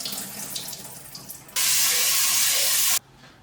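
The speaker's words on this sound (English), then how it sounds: "I drain the water and add fresh water" Tap water runs loudly for about one and a half seconds as soaking water is drained from tur dal and fresh water is added in a home kitchen, a steady close rush that stops abruptly, with quieter sink sounds before and after.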